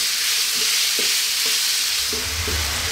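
Beef meat sauce for bolognese cooking over above-medium heat, a steady loud sizzle with several spoon scrapes and stirs, no voices.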